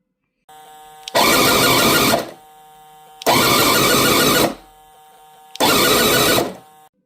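A mini supercharged V-8 engine in an RC boat idles at a low, steady rumble, then revs up loudly three times in even, roughly one-second bursts, dropping back to idle between each.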